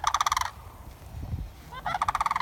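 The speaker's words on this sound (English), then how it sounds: "Those noisy birds." Sandhill cranes give two bursts of rapid, rattling calls, one at the start and one at the end, with a quiet gap and faint rustling between them.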